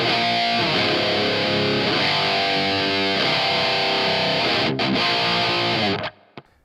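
Heavily distorted electric guitar chords through a Marshall DSL20H amp in a metal style, thick sustained chords played loud and continuous for about six seconds before cutting off abruptly into a brief fading tail.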